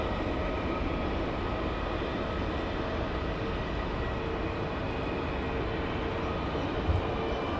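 A British Airways Boeing 777 on its takeoff roll at Heathrow, a broad low rumbling roar heard from a distance, steady and unbroken with no voices.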